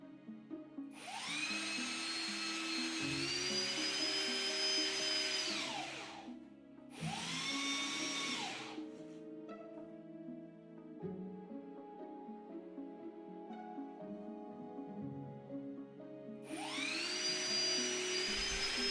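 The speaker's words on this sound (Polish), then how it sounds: "Przy drugim wkręcie narzędzie na tych samych ustawieniach wprowadza go do końca." A Ryobi R18PDBL cordless hammer drill driver with eTorque drives screws, its motor whine ramping up and winding down in three separate bursts, with nothing else heard.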